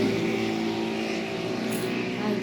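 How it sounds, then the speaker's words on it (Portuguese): Loud motorcycle engines drone and rumble steadily outside, with a buzzing, revving tone that stays close and continuous for a couple of seconds. "para que as motos deles parem de fazer tanto barulho"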